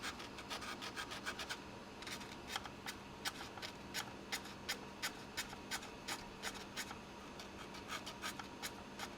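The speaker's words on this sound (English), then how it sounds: "some rough sanding sponge." Steady, rhythmic scraping of a rough sanding sponge rubbing back and forth over a P-40F Warhawk model, close up, with quick repeated strokes and no talking.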